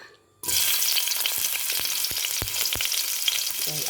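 Ginger hitting hot oil in a pan bursts into a loud, steady frying hiss that continues throughout, with a few sharp clicks and taps of a utensil against the pan.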